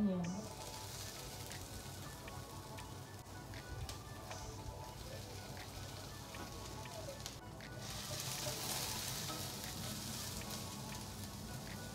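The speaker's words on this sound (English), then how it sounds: "I'm just gonna go ahead and just cook the vegetables and let them brown and soften" Peppers and onions fry steadily in oil in a skillet, a continuous soft sizzle and crackle that holds at moderate level throughout and brightens slightly near the end, with a voice speaking faintly underneath.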